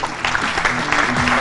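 A studio audience on a Saudi sports TV show breaks into dense, loud applause, steady clapping with crowd noise throughout.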